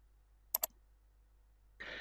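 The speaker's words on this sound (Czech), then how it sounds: "Kliknu na místo mého zájmu" Two quick, crisp computer mouse clicks close together, made while selecting a house on an online property price map, heard close in a quiet room before a burst of broadband noise.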